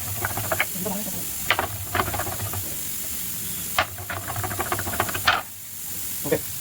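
Steam hissing from a pressure cooker in a home kitchen, with a steady hiss broken by repeated sputtering bursts and rattling pulses.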